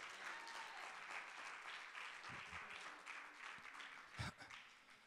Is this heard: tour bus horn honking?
no